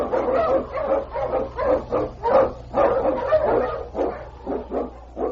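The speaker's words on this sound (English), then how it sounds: "The Wonder Dog King, swiftest and strongest of Eskimo lead dogs, blazes the trail through storm and snow for Sergeant Preston" Eskimo lead dog barking repeatedly in a steady rhythm of sharp yips and barks, fairly close and loud over a low constant hum, with no talk.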